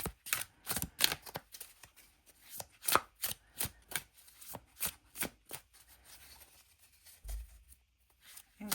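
Marseilles tarot card deck being shuffled by hand, a series of crisp close riffling and tapping strokes in an uneven rhythm, fairly quiet, with no talking.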